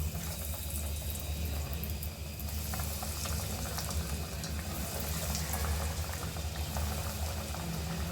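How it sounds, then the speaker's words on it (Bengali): Homemade chicken nuggets deep-frying in hot oil in a kadai, a quiet, continuous bubbling that holds steady throughout with no talking. "এগুলো ডুবু তেলে ভেজে নেব"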